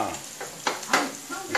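Bacon and calabresa sausage fry in a pan for feijão tropeiro, a soft continuous sizzle broken by a few stirring scrapes, close and fairly quiet with no talking.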